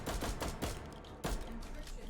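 A KS-23 shotgun firing flashbang rounds: a few sharp, fairly faint reports spaced irregularly apart over a low background of distant battle noise.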